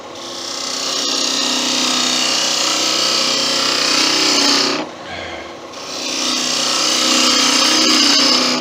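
A gouge cuts a cove into acacia on a wood lathe, giving a loud, continuous rasping scrape up close that breaks off for about a second before the cut resumes.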